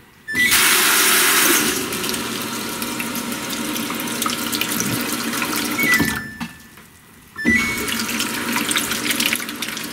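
A sink appliance in a house is switched on, and water bursts out with a loud rushing hiss that settles into steady running, then briefly cuts out and starts again, with a faint high tone and no talk.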